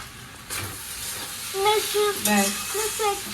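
Chow mein with onion, potato and egg stir-fried in a hot pan gives a steady sizzle with scraping stirs, and a voice speaks briefly over the cooking.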